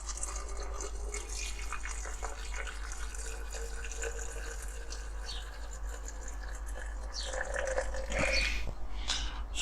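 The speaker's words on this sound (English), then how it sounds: "let's get the old boiling water in there" Boiling water poured into a drain to clear a blockage, a steady liquid pour and splashing with a low hum underneath, brightening and gurgling louder toward the end, no voices.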